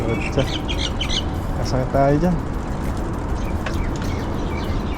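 A crow caws a few times partway through, set against a steady outdoor rumble while people chat nearby.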